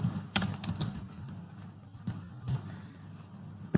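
Someone types an employee's name on a computer keyboard in a short burst of close key taps, then pauses and taps a few more keys, with no talking.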